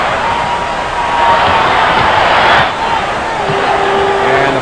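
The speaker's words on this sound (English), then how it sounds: "the crowd here would be favoring the East, and they're letting their feelings known" A packed arena crowd at the 1969 NBA All-Star Game keeps up a loud, continuous roar of cheering that swells briefly in the middle, with a commentator's voice running over it.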